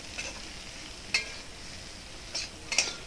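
A spoon stirs dry-roasted, ground red chilli, coriander and cumin into potato filling for singara, giving soft scraping with a few sharp clinks against the pan over a faint steady hiss.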